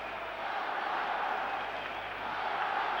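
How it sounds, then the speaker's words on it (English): A Spanish football crowd at a 1975 European Cup semi-final between Leeds and Barcelona keeps up a steady, distant roar of chanting that fills the stadium without pause. "Spanish crowd have really found their voices in the last quarter of an hour"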